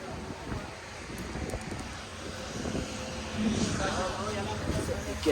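Steady gusty wind roars across the microphone, with faint fluttering and rustling of a flag throughout, continuous and fairly loud, no speech.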